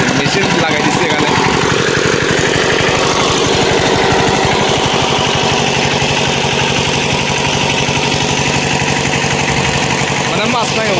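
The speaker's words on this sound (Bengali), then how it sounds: "তোমাদেরকে আমি একটু দেখাই, মেশিন লাগাই দিচ্ছি এখানে।" A machine engine runs steadily at a village fishing spot, a loud, continuous chugging drone with a fast regular pulse, close by and filling the whole stretch with no letup.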